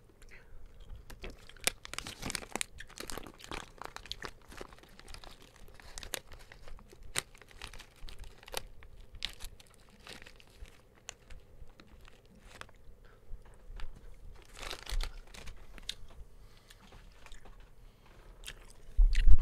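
Sour Skittles candy is chewed close to the mic, producing a steady run of soft, wet crunching and squishy bites with occasional crinkling, fairly quiet overall.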